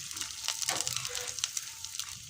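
Chopped onions tipped into a generous amount of hot oil in a pan while cooking chicken biryani, giving a steady, close sizzle with a few sharp crackles and soft scraping.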